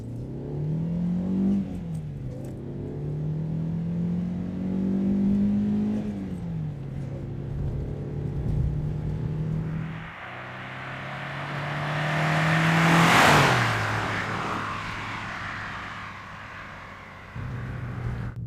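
A 1983 Honda Prelude engine accelerates while driving, heard from inside the car. Its drone climbs in pitch through several gear changes, dropping briefly at each shift, with a louder, harsher surge toward the end and no talk.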